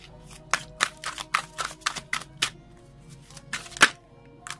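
Tarot cards are shuffled by hand in a series of crisp, rapid riffling bursts, close and clear, with short pauses between them and no talking.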